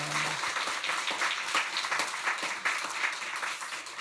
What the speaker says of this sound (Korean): 오늘 연합성가대에 수고하셨는데 경의 박수 한번 받습니다.